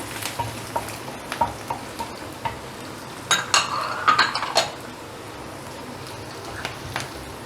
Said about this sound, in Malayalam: ഇനി ഞാൻ പച്ചമുളക് ഇടുന്നു. ഇഞ്ചി ഇടുന്നു.